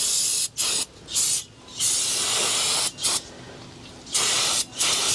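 Brake cleaner sprayed from an aerosol can onto the rear brakes of a 2011 Honda Pilot: a series of loud, close hissing bursts, about five of them, each a second or so long, separated by short gaps, with no talking.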